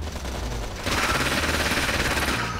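Gunfire in a mobile sniper video game bursts in suddenly partway through, a loud, dense stream of shots that continues to the end.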